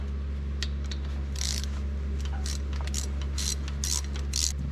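Ratchet loosening brake caliper bolts on a 2017 Jeep Wrangler JK: rapid bursts of close, crisp ratcheting clicks in short runs over a constant low mechanical hum.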